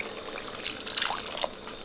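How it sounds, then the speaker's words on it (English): Water pours into a pot of masala being cooked down for mutton trotter paya, a soft liquid trickle with a few small splashy drips, fairly quiet and brief. "I want to add water"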